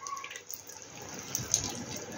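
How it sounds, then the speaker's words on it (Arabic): A small amount of water pours briefly into a pot of lentils for Egyptian koshari, a soft continuous splashing trickle lasting a couple of seconds, fairly close. "حبة مية صغيرين خالص"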